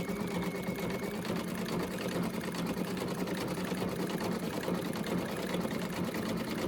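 An embroidery sewing machine stitches out a satin-stitch applique for quilting, giving a continuous, even mechanical hum and rapid needle patter at moderate volume with no pauses.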